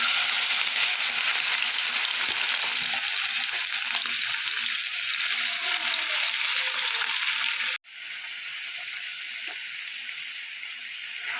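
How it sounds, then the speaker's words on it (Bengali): Prawns fry lightly in hot oil with whole cumin, a loud, steady, close sizzle that cuts off abruptly, then continues more quietly. "এবার আমি চিংড়ি মাছগুলো হালকা করে একটু ভেজে দেবো"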